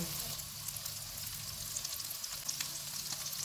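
A steady, crackling sizzle of potatoes frying in melted butter in a pan over low-to-medium heat, with a constant low hum beneath.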